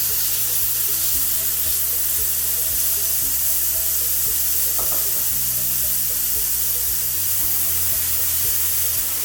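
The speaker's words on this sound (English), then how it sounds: "now we're going to work in batches by adding it to a frying pan over medium heat" Shredded beef and vegetables fry in a pan over medium heat, giving a loud, continuous crackling sizzle throughout, with occasional stirring scrapes and no talking.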